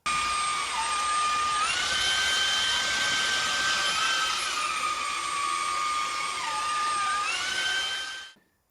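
A Xiaomi Mijia K10 cordless vacuum cleaner runs close by with a high, whining motor tone that shifts pitch a few times before it switches off.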